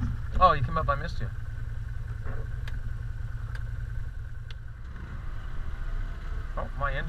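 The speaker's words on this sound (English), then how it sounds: "my engine braking is doing the whole job for me" A low, steady ATV engine rumble under engine braking runs throughout, with someone speaking briefly at the start and again near the end over the drone.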